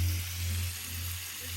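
Crucian carp sizzling in a hot frying pan, a steady crackling hiss running throughout with a low hum underneath.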